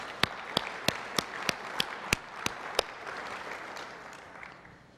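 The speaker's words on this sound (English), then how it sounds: "And I want to applaud you for this outstanding performance." Applause at a 2012 CII annual conference session after a performance: a burst of loud separate claps up front, then a steady fading wash of clapping from the audience with no one talking.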